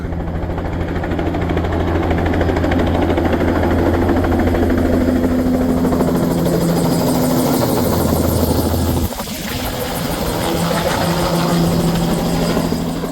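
Helicopter flying over a farm orchard in Canada, a loud steady rotor and engine drone that holds close and continuous for most of the stretch, briefly dipping near the end before resuming.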